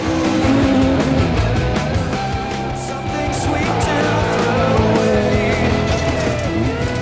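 A Ford Escort rally car at a 2004 stage rally is driven hard, its engine roaring loudly and continuously up and down through the revs, close by, with gravel and tire noise beneath.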